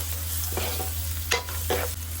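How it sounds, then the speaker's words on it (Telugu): Ginger garlic paste frying with onions, chillies, salt and turmeric in a pan, a steady close sizzle broken by a few scraping stirs of a spatula. "ఆనియన్స్ వేగిన తర్వాత అల్లం వెల్లుల్లిపాయ పేస్ట్ వేసి 1 మినిట్ పాటు వేయించండి"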